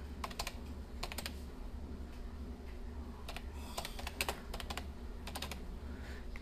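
Fingers type on a computer keyboard while entering a name with the artistic text tool in CorelDRAW, producing quick bursts of close, crisp key clicks separated by short pauses over a faint steady hum.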